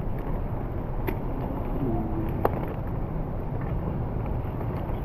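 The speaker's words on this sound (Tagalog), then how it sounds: "Mahangin." Wind blows steadily outdoors in rainy weather, a constant broadband rush buffeting the microphone throughout, with a couple of brief sharp knocks.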